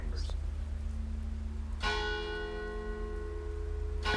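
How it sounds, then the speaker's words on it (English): A church bell strikes once, close and loud, ringing out with a long sustained hum, set against a low steady drone in a horror story soundscape; a faint earlier chime precedes it. "And then the bell rang. Not faint, not distant. Close. Louder than I'd ever heard it."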